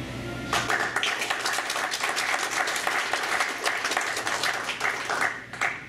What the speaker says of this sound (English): please join me in a round of applause for the newest air defenders